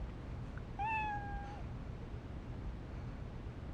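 Housecat meowing in the Trauma Team video game: a single clear, drawn-out meow standing out near the listener against a quiet, faint background.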